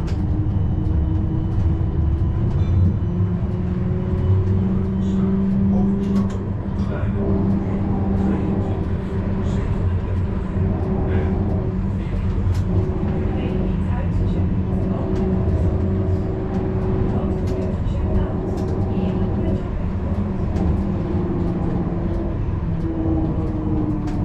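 Amsterdam GVB tram on line 14 in motion, a steady loud rumble of wheels on rail with a sustained tonal hum throughout, close and continuous with no talk.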